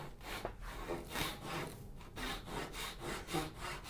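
A hand saw rasps back and forth through wood, cutting a dovetail-style joint in even, rhythmic strokes, close and fairly quiet.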